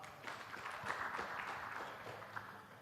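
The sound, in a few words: audience applauding a panel member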